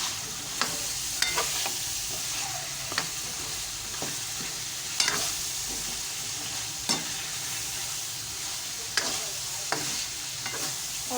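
Onions are stirred into chicken korma frying in a pot, with a steady sizzle broken by repeated sharp scrapes and clacks of the spoon against the metal, close and clear, no talking.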